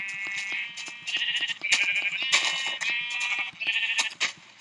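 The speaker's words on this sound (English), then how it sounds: "So we're gonna finish up killing this small herd of sheep" Sheep in Minecraft bleat repeatedly in quick, overlapping calls, mixed with sharp clicking thuds and a few louder bursts close by.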